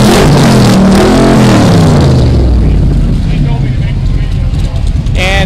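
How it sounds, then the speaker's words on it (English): A Callaway Corvette 427R engine revs loudly at a cars-and-coffee meet, its roar rising and falling in sweeping pitch over the first half, then settling into a lower rumble under crowd chatter and nearby voices. "we just heard that 427R make a whole bunch of noise"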